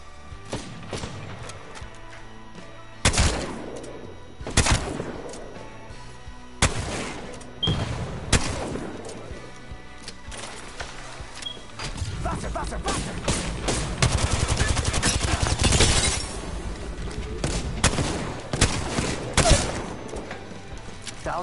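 Heavy gunfire in a video game shootout, with loud bursts of automatic fire and sharp single shots coming in clusters, plus booming impacts. The firing grows denser and more sustained toward the middle.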